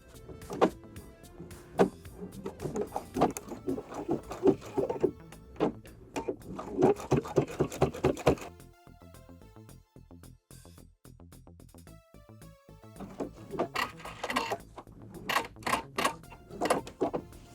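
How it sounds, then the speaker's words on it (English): A sewing machine stitches down the second side of the binding on a round drawstring pouch, running in bursts of rapid needle strokes with a quieter pause in the middle before it starts again, close and clear with no talking. "Now we're going to sew down the other side of the binding"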